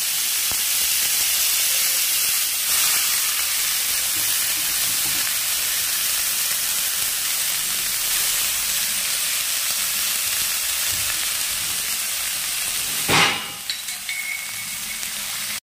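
Pea greens are dropped into a hot pan of oil tempered with dried chili and radhuni and fry with a loud, steady sizzle and hiss throughout. A brief clatter near the end breaks the sizzle, and no one speaks.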